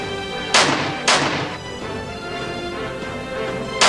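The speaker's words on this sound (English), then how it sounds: "The Kasul collection offers some of the most powerful guns in the world." Kasul firearms fire three loud shots at a range: two sharp reports close together near the start and a third at the end, each ringing out over steady background noise.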